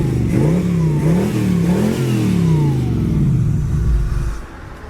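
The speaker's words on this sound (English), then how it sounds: "We'll rev it up a little bit and see what it sounds like." A 1936 Ford five-window coupe engine revs up and down several times with a throaty dual-exhaust rumble, close and loud, then settles toward idle.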